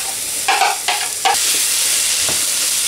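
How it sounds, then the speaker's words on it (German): Onions, bell pepper and celery sizzle steadily in a frying pan as vegetables are stirred in with a few soft scraping bursts, the hiss close and continuous with no talking. "Jetzt kommt Paprika dazu und der Sellerie. Und wird auch nur ein bisschen angebraten."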